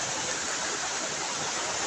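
Floodwater rushes along a flooded road during heavy, unrelenting rain, giving a steady, dense, broadband roar that holds constant throughout with no talk over it.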